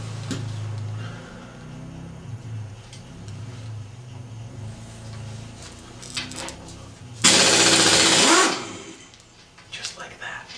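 A Honda CL175 race bike project wheel is worked on with an impact wrench, delivering one loud, harsh burst of rapid hammering that lasts over a second, surrounded by quieter workshop noise and brief clatter.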